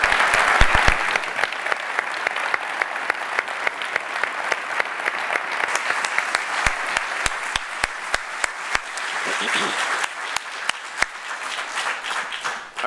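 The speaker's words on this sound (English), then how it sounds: "let's give a round of applause." Audience applause for a panel discussion fills the room, steady dense clapping with sharp individual claps standing out, continuing strongly throughout before cutting off at the end.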